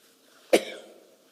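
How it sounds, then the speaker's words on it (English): A single sharp cough from a witness at a commission hearing, one loud abrupt burst followed by a short fading tail in an otherwise quiet room. "I'm having a difficult coughing"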